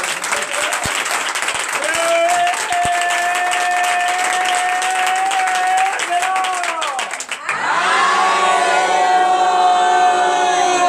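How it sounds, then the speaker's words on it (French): Applause and cheering from a church congregation during a deliverance and prophecy night service, dense clapping with sustained voices and a held tone over it, continuing loud throughout with a shift in texture near the end. "Veuillez donner de vive acclamation."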